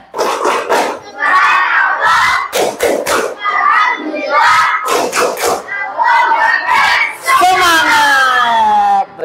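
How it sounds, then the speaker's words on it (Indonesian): Children in a classroom shout a rhythmic clapping chant together, loud and close, with bursts of claps and thumps between the group voices. "Ayo sama-sama tepuk semangat anak soleh."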